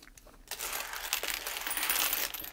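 Shiny silver coins clatter and jingle as they drop and are handled, a bright metallic rattle starting after a brief quiet moment and continuing steadily close by, with no talking.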